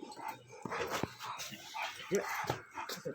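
A dog whimpers and gives small yips at close range, with faint voices and household noise around it.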